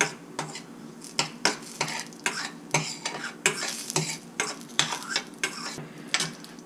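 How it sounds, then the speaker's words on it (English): A metal utensil scrapes and stirs cumin seeds as they roast in a hot pan for methi matar malai. The scrapes come in a quick, steady rhythm over a faint sizzle, loud and close, with no talking. "roast it until it pops or it becomes brown color."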